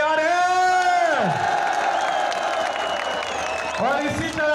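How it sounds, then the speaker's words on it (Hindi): A crowd at a PTI political rally in Attock claps and cheers loudly and steadily, with whoops rising above the applause and an announcer's amplified voice at the start and end. "हाथ उठाकर तालियों का गूंज बताएगा कि आप तैयार हैं"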